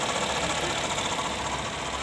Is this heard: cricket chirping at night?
no